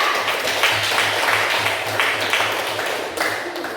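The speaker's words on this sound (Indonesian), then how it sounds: "Tepuk tangan kelompok 3" Classroom applause for group 3, a steady wash of many small hands clapping together at close range, carrying on evenly for several seconds with no voices over it.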